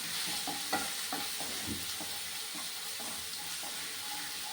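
Ginger-garlic and cumin paste stirred and frying in a pan: soft sizzling with scattered spoon scrapes and taps, fairly quiet and close, no talking.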